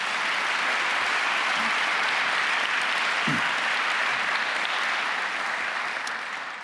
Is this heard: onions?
no